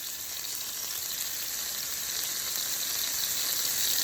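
Burger patty topped with smoked Gouda frying in a pan, a steady, close, crackling sizzle that grows slightly louder over time, with no one speaking.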